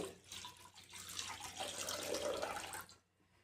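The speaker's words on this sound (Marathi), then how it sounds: "एक तांब्या एवढं पाणी टाकून घेते" Water runs steadily into a kadhai for about three seconds, a bright splashing pour at close range, then stops abruptly.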